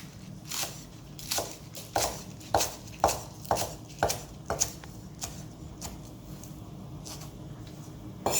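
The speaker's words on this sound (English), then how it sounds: "these I will cut into rounds for finishing the dish" A knife cuts vegetables into rounds on a cutting board for tteokbokki, with about a dozen evenly spaced crisp chops that thin out toward the end, close and clear.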